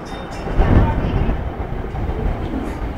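Class 153 unit 153355 rolls slowly through Lincoln Central, with a close, loud rumbling rail noise and soft clatter that stays steady throughout.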